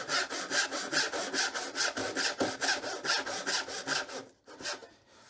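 A hand saw rasps through wood in quick, even push-pull strokes while cutting relief kerfs for a half lap joint, close and steady before slowing to a few last strokes and stopping.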